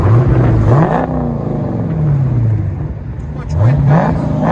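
A 2021 Dodge Challenger Scat Pack with a 6.4L HEMI V8 and dual exhaust revs up and falls back in repeated loud rising and falling sweeps, with wind noise and people talking around it.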